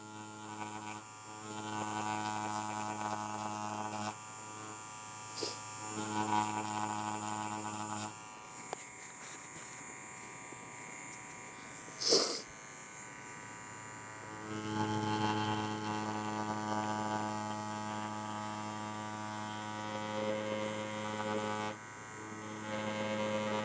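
Yilong tattoo machine running continuously at close range, a steady electric buzz with a rich harmonic hum that dips and swells as the needle works, with a few handling knocks mixed in.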